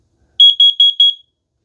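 Test alarm on a Kidde carbon monoxide detector: four quick, loud, shrill beeps in a tight even rhythm, heard up close with nothing else around them.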